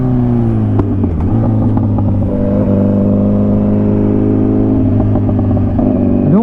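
A motorcycle engine is held at high revs while ridden without the clutch, giving a steady, loud drone that wavers slightly in pitch, with light mechanical clatter and no voices.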